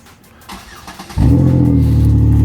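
A Chevy Impala engine cranks by remote start and fires up, then settles into a loud, deep, throaty idle from a rumbling aftermarket exhaust, close by.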